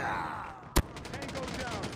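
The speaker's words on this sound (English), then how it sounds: "Friendly sentry gun deployed." A sentry gun in a shooter game fires one sharp, close crack, followed by a quiet run of rapid faint pulses over a low background hum.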